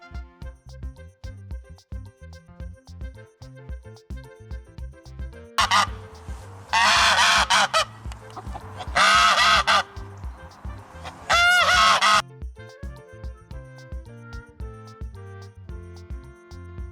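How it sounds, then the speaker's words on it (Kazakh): A goose gives three loud, nasal honking bursts in the middle, each about a second long, set over a light, steady musical backing that plays before and after. "Қаз."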